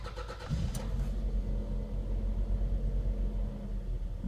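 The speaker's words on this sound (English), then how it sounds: "we'll go ahead and start her up" A Toyota RAV4 engine cranks and catches about half a second in, then settles into a steady, loud idle rumble that continues without any talk.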